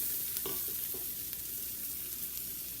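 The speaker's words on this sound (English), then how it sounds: "I'm gonna add in my garlic to let that saute a bit." Garlic sautes in a hot pan after the onions, giving a steady faint sizzling hiss with a few soft scrapes and clinks of stirring early on, and no voices.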